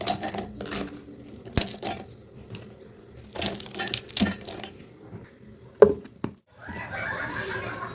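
Toast biscuits being crushed into breadcrumbs for a beet and carrot dish, with irregular crunching, crackling and clattering against a dish or utensil, loud near bursts separated by quieter gaps, no talk.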